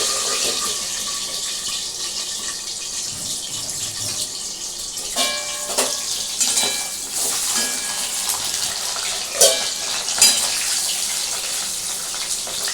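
Pieces of basa fish spatter and crackle in hot oil in a covered pan, a steady loud hiss broken by sharper pops and bursts, with no talking.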